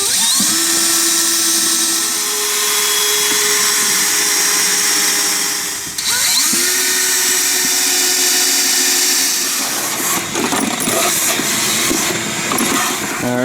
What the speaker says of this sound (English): So I just got to drill some holes in here and bolt that down.